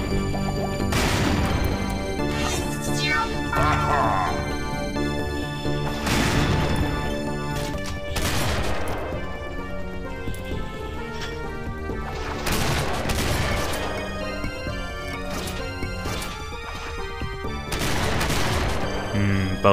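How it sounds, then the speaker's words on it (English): Bursts of loud, heavy gunfire and crashing impacts in the Heretic video game with the Guncaster mod, rapid volleys repeating every few seconds against continuous game music. "I'll just shoot you from over here."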